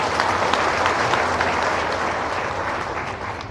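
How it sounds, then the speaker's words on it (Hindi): Rally audience clapping together in a loud, dense, steady burst that carries on without letup, tapering only slightly at the end. "एक बार तो हम चाहेंगे कि एक बार और ताली इनके लिए बजाइए।"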